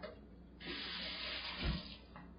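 Water runs from a kitchen tap for a couple of seconds while a work surface is wiped during banana bread and rice paper roll cooking, a steady close rush with a brief louder splash near the end.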